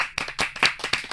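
A few people in a celebrity talk-show studio clap their hands in a short, sharp run of about six claps, close and distinct.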